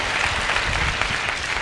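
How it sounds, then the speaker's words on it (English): A seated audience at a college-to-corporate talk at IMPACT 2013 applauds, a dense and steady burst of many hands clapping at once that holds loud and even throughout. "Can we clap for him?"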